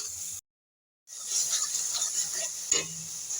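Fish masala with chilli powder, salt and turmeric sizzling steadily in a pan, a close continuous hiss with faint stirring, broken by a short silent gap near the start.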